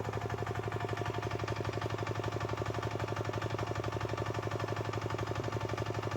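Fishing boat engine running steadily, a faint, even mechanical thrum with a fast regular pulsing beat throughout, no talk.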